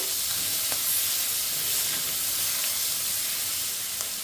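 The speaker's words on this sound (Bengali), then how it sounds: "কেটে রাখা টমাটোটা আমি দিয়ে দিলাম দিয়ে একটু নাড়াচাড়া করবো" Chopped tomatoes go into capsicum frying in a pan for a stuffed chilli dolma, giving a steady soft hiss and sizzle with a few faint clicks, fairly even throughout and without speech.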